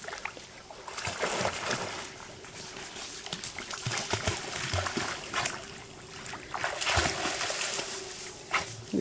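A dog swims and splashes in woodland water, with repeated irregular splashes and paddling sounds at moderate distance and faint background ambience throughout.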